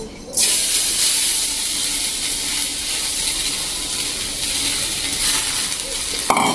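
Sabudana (sago pearls) tossed into a hot pan and stirred, a steady broad sizzle with scraping stir sounds that starts abruptly after a brief quiet moment and holds loud and close throughout.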